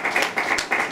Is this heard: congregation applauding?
yes